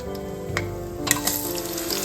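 Soya chunks fry in a pan with cloves and spices, giving a continuous sizzle broken by a few sharp clinks and scrapes from stirring.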